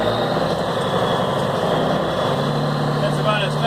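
A 1970 M35A2 deuce and a half military truck engine pulling slowly in first gear of its manual five-speed, a steady loud diesel drone with a low whine, continuous and close.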